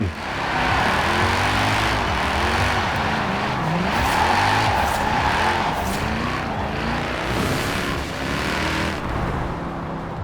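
A 2010 BMW M3 GTS rear-wheel-drive drift build in Forza Horizon 4 roars steadily at high revs on a drag strip. The engine pitch rises and falls through gear changes, with some tire squeal, and no voices.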